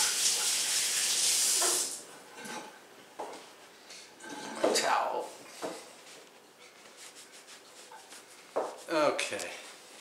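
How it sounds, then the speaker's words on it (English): Tap water runs over sticky, dough-covered hands in a home kitchen for about two seconds, a close steady hiss that then stops, followed by scattered handling noises and someone talking. "I'm just going to rinse my hands because they are very sticky"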